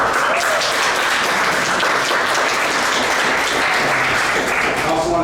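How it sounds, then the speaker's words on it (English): An audience at a community meeting on St Catherine's Square breaks into sustained, even applause that fills the room for several seconds with no gaps. "Let's give her a round of applause."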